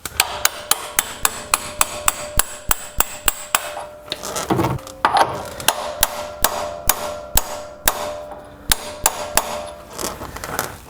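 A big socket is hammered repeatedly to drive a stiff pulley into a Troy-Bilt/MTD/Cub Cadet lawn tractor, with sharp metallic blows in quick bursts, pausing briefly before further strikes.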